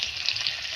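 Raw onion hisses in hot oil with mustard seeds in a kadai, a dense, continuous close sizzle with faint crackles.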